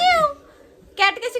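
A voice imitates a cat's meow, a short high falling cry followed after a brief pause by a second, choppier meow-like call.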